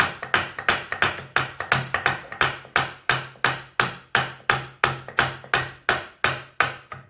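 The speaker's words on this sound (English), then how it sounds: "Let's lump hammer that back out." Steady series of heavy metallic lump hammer blows knocking a part out of a Tesla Model 3 drive unit, about three per second, each sharp strike ringing briefly before the next, close and loud with no talking.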